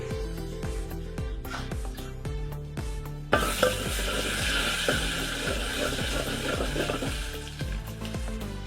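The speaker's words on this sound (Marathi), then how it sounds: "तेल गरम झालं जे आपण बारीक केलेलं खोबरं आहे हे आपण टाकून घ्यायचं" Grated coconut hits hot oil in a pot over a wood-fired village stove during mutton curry prep, bursting into a loud, dense sizzle after a series of steady rhythmic stirring scrapes.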